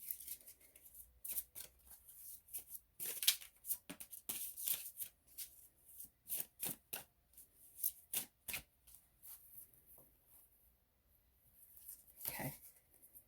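Oracle cards being shuffled by hand, soft quiet riffling and shuffling bursts repeated irregularly, close and intimate with no talk.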